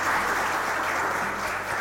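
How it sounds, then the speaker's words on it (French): Studio audience applause on a French game show, a dense, steady burst of loud clapping that fills the whole short stretch without pause. "Et puis, ça s'applaudit."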